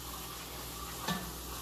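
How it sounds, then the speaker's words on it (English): Tomato paste fries in a pan with a steady low sizzle, briefly interrupted by a single stir or scrape, close and fairly quiet. "frying off tomato paste"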